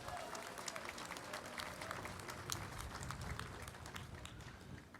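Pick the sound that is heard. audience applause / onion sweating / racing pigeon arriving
audience applause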